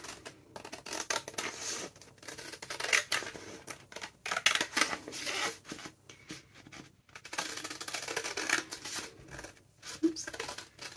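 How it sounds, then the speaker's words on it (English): Scissors snip around a paper envelope being made into a junk journal page, a quiet, close run of irregular crisp cuts and paper rustles, alone. "I'm just going to cut around my envelope."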